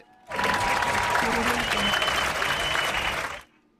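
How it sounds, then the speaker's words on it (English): A radio show studio audience breaks into a loud, sustained round of applause lasting about three seconds, dense and steady before cutting off abruptly. "a round of applause for Muhammad"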